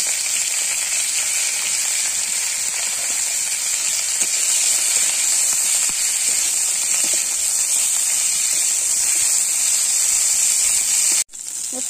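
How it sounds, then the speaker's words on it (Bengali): Cauliflower frying in oil seasoned with salt and turmeric gives a steady, loud sizzle and hiss that holds through the whole stretch, with faint stirring clicks, before it cuts off sharply near the end. "দিয়ে সুন্দর করে একটু লাল লাল করে ভেজে নেব।"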